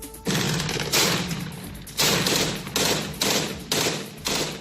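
Heavy gunfire and artillery fire roll across Baghouz, Syria, during fighting. The loud, overlapping volleys come in repeated bursts about every half second to a second, with no voices over them.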